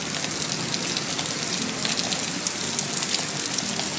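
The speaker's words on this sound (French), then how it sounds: "Il pleut tellement que ça pleut horizontal" Heavy, wind-driven rain falling so hard it comes down sideways, a dense, steady roar of drops with no pauses for the full length.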